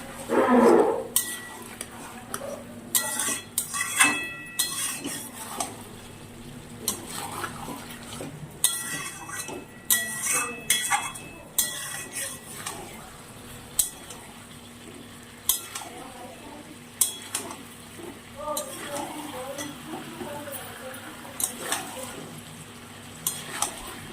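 Chicken being stirred and sautéed with spices in a pan, repeated metal spatula scrapes and clinks over a low sizzle, with brief faint speech.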